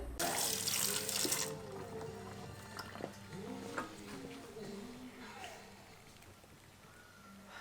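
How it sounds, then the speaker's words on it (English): Cold water runs from a tap over dental wax in a sink, a steady hiss that is loudest in a first strong burst and then keeps flowing with small splashes and drips, with no one talking. "now I run it under some cold water so that way the wax hardens up"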